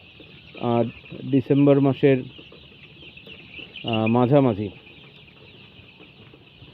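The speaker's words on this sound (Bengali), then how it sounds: "এখানে আমাদের 1200 মুরগির বাচ্চা আছে, সোনালি ক্লাসিক।" Around 1,200 sixteen-day-old Sonali Classic chicks in a winter poultry brooding house keep up a steady high chorus of peeping and clucking, heard throughout beneath a man's nearby speech.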